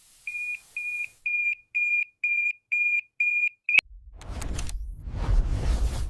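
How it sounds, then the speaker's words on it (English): Smoke detector in a fire alarm system sounding a run of seven sharp, evenly spaced high beeps, then cutting off into a rushing whoosh and low rumble. "When smoke enters the chamber, the sensor triggers an alarm signal."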